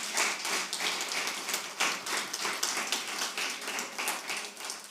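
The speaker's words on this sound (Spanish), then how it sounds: "Den un aplauso fuerte al Señor." Church congregation applauding loudly for the Lord, a dense, steady wash of many hands clapping that carries on throughout without speech.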